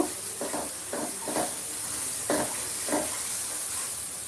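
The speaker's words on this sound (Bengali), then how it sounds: "তো আদা রসুনের পেস্টটাকে আমি এর সাথে একটু ভেজে নিব।" Ginger garlic paste fries with onions in a pan under a constant hiss, broken by several short scraping strokes of a spoon stirring, close and fairly loud.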